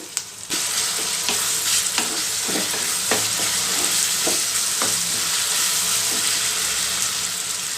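Fenugreek gojju simmering and frying steadily in a pan with salt just added, a continuous close sizzle broken by occasional stirring scrapes and small knocks.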